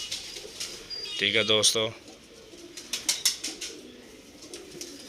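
A teddy pigeon pair in Lahore cooing softly in a close burst, with faint chirps and rustles after, while someone speaks over the sounds.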